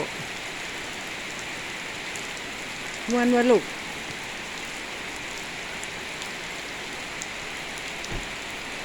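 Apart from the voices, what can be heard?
rain falling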